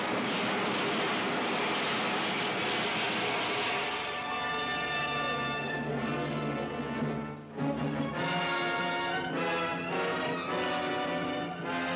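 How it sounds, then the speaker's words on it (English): An airborne craft lands in an old adventure serial, a loud continuous engine roar with shifting rising tones that carries on without a break, alone without talk. "An airborne craft like nothing I've ever seen on Venus is landing at coordinates"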